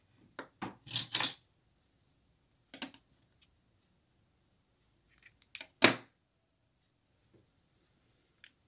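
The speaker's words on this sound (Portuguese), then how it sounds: "Puxamos até uma altura e vamos cortar." Scissors snip through yarn during a knooking project, a few short crisp cuts near and alone in an otherwise quiet room.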